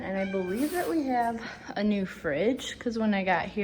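A pet cat meows in the kitchen of a newly rented house, its short rising and falling calls overlapping a person talking nearby.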